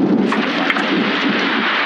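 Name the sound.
thunderstorm in 112 Operator video game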